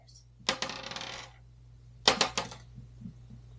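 Dice clatter across a table during a softball board game, two separate rattling rolls about a second and a half apart, each a quick burst of bright clicks that settles, with a faint low hum underneath.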